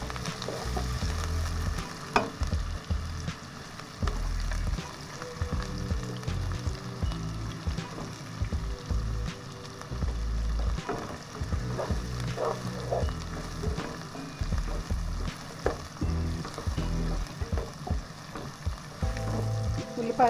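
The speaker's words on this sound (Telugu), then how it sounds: "ఉల్లిపాయలు కాస్త వేపుకుందామండి." Chopped onions fry in a pan for a restaurant-style chicken fry biryani, giving a steady, dense sizzle throughout with repeated close scraping and stirring strokes of a spoon against the pan.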